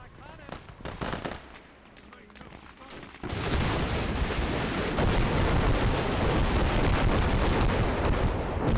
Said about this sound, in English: Wow, that was a very devastating salvo.